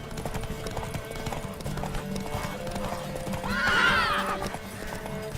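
A horse in The Witcher 3 video game clip-clops steadily at a moderate pace, with a short neigh rising over the hooves midway; game ambience hums underneath.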